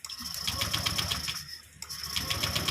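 A Honda Vario 125 scooter engine cranking on the starter during a no-spark ignition fault, a steady close mechanical whir with a brief dip midway, no catch or idle following.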